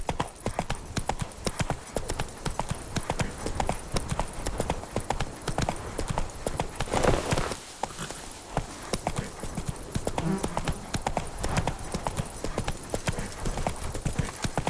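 Roach, a horse in The Witcher 3, gallops in a fast, steady run of close hoofbeats that eases briefly midway and then picks up again.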